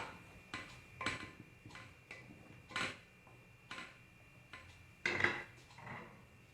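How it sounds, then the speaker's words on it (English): A spoon stirs sugar into a mixture for paan rasmalai, giving a steady series of about eight light clinks and scrapes against the bowl, close and fairly quiet, with no voices. "now I'll give it a quick stir"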